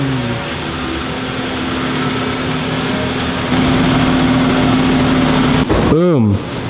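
A Toyota Celica GTS fitted with a Supra exhaust idles steadily up close, its even, low drone holding throughout and rising slightly in level partway, with a brief voice-like sweep near the end.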